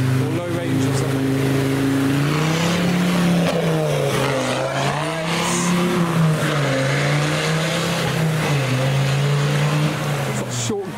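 A car crawls through Rufford Ford in a short, low gear, its engine droning steadily with wavering pitch and water noise all around, close and continuous for about eleven seconds.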